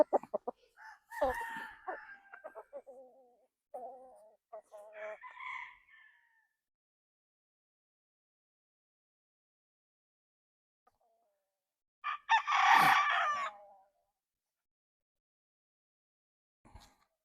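Roundhead gamefowl stags, seven months old, crow and cluck close by in a quiet yard: a few short clucks and calls early on, then one loud crow after a long pause.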